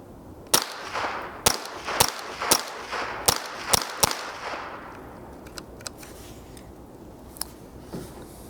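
A Winchester Wildcat semi-automatic .22 rifle fires about seven sharp, close shots in a quick, uneven string, then a few fainter clicks and taps follow in the quieter tail.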